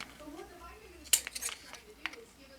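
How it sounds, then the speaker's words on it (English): Scissors snip through material during a prop build of the Oblivion Bubbleship, with a handful of crisp, close cuts bunched in the middle and a faint voice murmuring underneath. "Yes, I know this is bad for the scissors."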